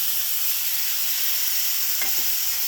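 Ginger paste, cumin paste and green chili paste sizzle in a pan of fried potato and raw banana, a steady close hiss with a soft stirring scrape near the end.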